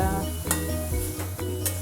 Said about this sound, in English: So now this has been frying on high heat for some time.